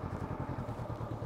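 A motorcycle running a slalom on a practice course gives a low, pulsing engine note with regular rhythmic beats, fairly quiet and steady, with no voices.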